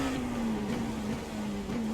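A car engine drones steadily while accelerating on a track lap, a continuous buzzing tone with slight pitch dips as gears change, loud and close.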